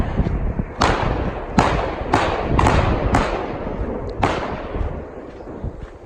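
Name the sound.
gunshots from a shooting range beside the highway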